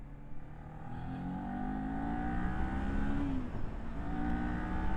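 A Kawasaki Ninja 400 parallel-twin motorcycle pulls hard in second gear, its engine note climbing steadily toward high revs, loud and close with a continuous rising whine.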